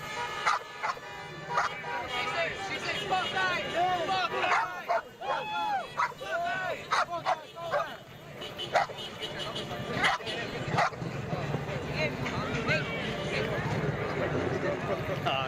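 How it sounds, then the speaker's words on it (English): A dog at a street protest barks, yips and whimpers in short, excited bursts amid crowd noise and people talking nearby, the calls clustered early and fading into the steady background. "he brought his dog out to protest"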